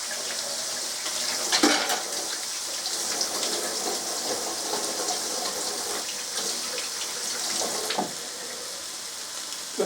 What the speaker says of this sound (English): I'll just take it out of the packet, rinse it under the tap,